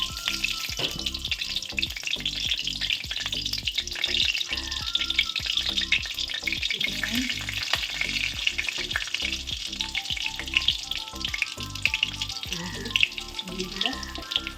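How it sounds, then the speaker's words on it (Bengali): Spices and nigella seeds fry in oil in a wok, a continuous sizzle and crackle close by, with stirring clatter and a busy kitchen background, with no talk. "এবার তেল দিয়ে দিলাম কড়াইতে, মশলাটা কষাবো।"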